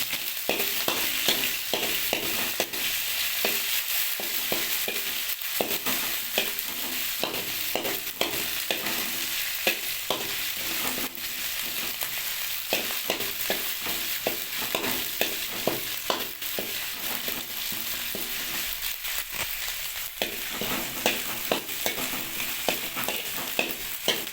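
Ginger garlic paste sizzles steadily in a pan while cooking chicken liver, with a constant hiss and repeated scraping taps from stirring, close and continuous without any talk.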